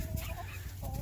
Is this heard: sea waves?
no